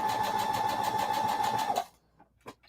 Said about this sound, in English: we just sew straight down